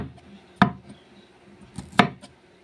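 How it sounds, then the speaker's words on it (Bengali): A knife chops green chillies on a board in a home kitchen, with two sharp, close cutting knocks and a few fainter taps between them. "এখন লঙ্কা কুচিয়ে নিচ্ছি।"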